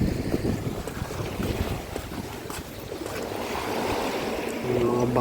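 A boat motor drones across open water, with wind buffeting the microphone and waves lapping nearby; the engine grows a little louder toward the end.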